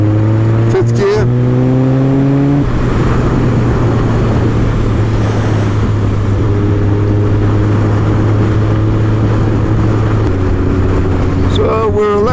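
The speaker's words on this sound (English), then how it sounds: "Wind it on slowly, 5th gear." Supercharged 370hp Kawasaki ZZR1400 motorcycle pulling steadily in 5th gear on a dual carriageway, a loud sustained engine drone rising gradually in pitch with heavy wind rush throughout.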